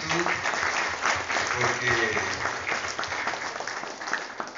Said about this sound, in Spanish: debemos tributar un caluroso y merecido aplauso de gratitud